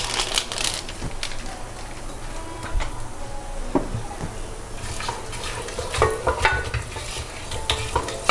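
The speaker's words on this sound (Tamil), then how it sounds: "ஸோ லோ ஃப்ளேமில் 1 minute நான் சாட்டே பண்ணிகிட்டே இருக்கேன்." Whole spices sautéing in ghee on a low flame for instant chicken biryani, with a steady soft sizzle and repeated scraping stirs of a spoon against the pan, close and continuous.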